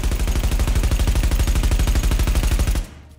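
Rapid automatic fire from a Vector .45 ACP submachine gun in The Division, a loud, steady stream of closely spaced shots for nearly three seconds, then cutting off abruptly into quiet.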